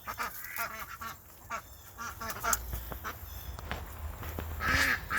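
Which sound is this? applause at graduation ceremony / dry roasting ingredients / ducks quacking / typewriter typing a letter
ducks quacking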